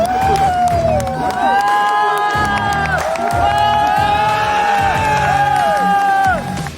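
Hundreds of spectators cheer and shout in loud, continuous waves over an open paddy field at a four-wheel-drive jeep mud race in Nilambur, with whoops and raised voices rising and falling throughout.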